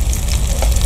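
Bananas frying in hot oil outdoors in a field at night, a close, steady sizzle with small bubbling pops and no talk.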